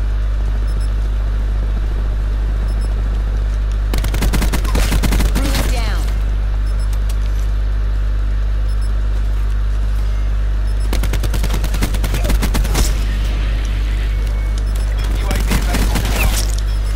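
Machine gun fire in a first-person shooter video game comes in three loud bursts of rapid automatic shots over a constant low engine-like hum, with a player speaking briefly.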